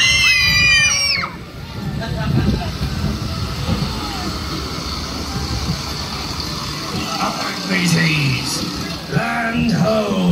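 Riders on the Jolly Roger boat ride at Crealy Theme Park let out high-pitched screams in bursts at the start and again near the end. The screams rise over rumbling ride noise and sloshing water, with voices talking in between.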